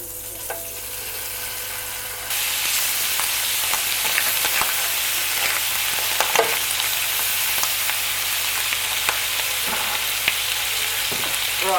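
Bacon sizzles in hot oil in a pan, a dense crackling hiss that jumps louder once the bacon goes in and continues steadily with small pops and scrapes nearby.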